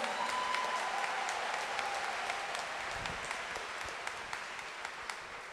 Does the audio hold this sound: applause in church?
yes